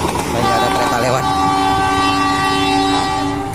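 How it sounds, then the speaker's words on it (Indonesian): A local Cicalengka–Padalarang train in Indonesia rumbles loudly past nearby, its horn sounding in sustained tones over the heavy clatter of the cars, with voices faintly mixed in. "Hanya ada kereta lewat."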